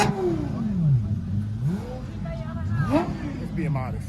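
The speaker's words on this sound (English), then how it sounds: "can we get a little revy rev? It's the best sounding car ever. We gotta hear it." A car engine revs in a few rising and falling bursts, close and fairly loud, with people talking and reacting over it.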